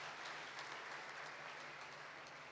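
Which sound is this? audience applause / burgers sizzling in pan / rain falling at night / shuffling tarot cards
audience applause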